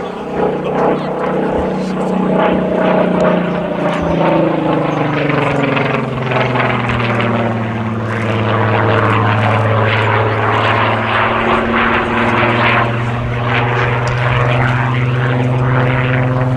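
A Supermarine Spitfire flies at the Midlands Air Festival, its piston engine and propeller making a loud, continuous droning growl whose pitch bends and sweeps as it passes, with a commentator's voice faintly over it.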